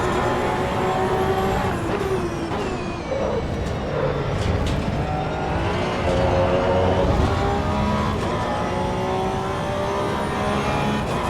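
Porsche race car in a racing video game, its engine revving hard and continuously close up, the pitch climbing and falling through gear changes, loud and steady with no talk.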